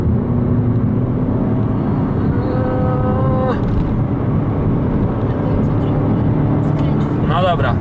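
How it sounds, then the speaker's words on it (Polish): Peugeot 5008 SUV with a 1.6 BlueHDi diesel under full throttle from 80 km/h, a steady droning engine and road roar inside the cabin with a rising tone, while someone talks over it. "But w podłogę. Już jest pełen gaz."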